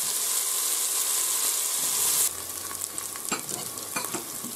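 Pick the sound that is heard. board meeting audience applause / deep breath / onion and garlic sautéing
onion and garlic sautéing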